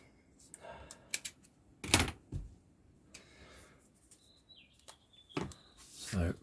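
A few sharp staple-gun snaps fasten Velcro into a corner, pinning down tape beneath it, with two close together early on and two more near the end, each a crisp isolated bang against a quiet room.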